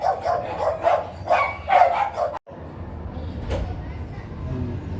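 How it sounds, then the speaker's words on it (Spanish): Several dogs barking at home, a run of sharp barks in the first half at close range, then an abrupt cut to quieter background noise with one faint sound. "ahí están mis perros haciendo un poco de ruido"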